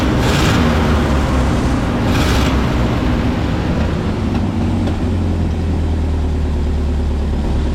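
A 1968 Ford dump truck's engine runs steadily after a carburetor fix, a loud, close, continuous low rumble with a couple of brief hissy surges near the start.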